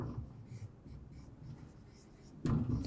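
Pen or pencil scratching numbers onto paper during a fourth-grade maths lesson, a soft steady scribbling that runs for most of the stretch, with a louder thump or voice-like burst near the end.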